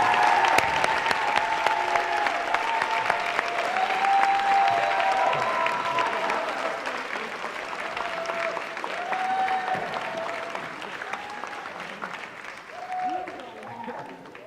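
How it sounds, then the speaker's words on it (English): Warm applause from an audience greets a Woman of Distinction award winner, sustained and crowd-wide, with voices and cheers faintly mixed in, tapering off toward the end. "can we give a warm round of applause for Deborah Montebianco"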